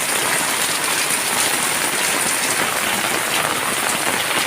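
A heavy morning downpour drums steadily on surfaces, a loud even wash of rain close by, constant throughout with no voices.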